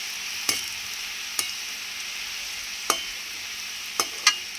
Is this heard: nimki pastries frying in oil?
yes